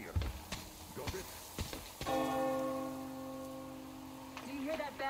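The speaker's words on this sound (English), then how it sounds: "Do you hear that bell?" A church bell in the video game Metro Exodus rings out with a sustained, ringing tone that swells and hangs for several seconds after a few short thumps and noises, fading slightly near the end.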